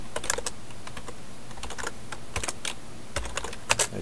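A command typed on a computer keyboard: rapid bursts of close, crisp key clicks in uneven clusters with short pauses, steady and alone for about four seconds.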